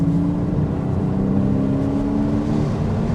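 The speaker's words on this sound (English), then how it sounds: "that beautiful sound that you get from the naturally aspirated flat six engine" Naturally aspirated flat-six of a Porsche Cayman 987.2 with manual gearbox, heard from inside the cabin as a steady, loud low hum and drone throughout, with no talking.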